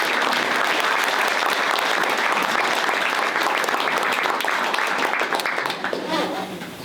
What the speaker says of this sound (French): Je crois qu'on peut l'applaudir pour cette aventure.